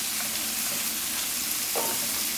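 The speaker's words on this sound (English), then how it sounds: "So this has been sauteing for about 2-3 minutes." Stuffed chayote squash filling with mushrooms sautes in a hot pan, a steady, even sizzle and crackle with a brief stir partway through, no talking.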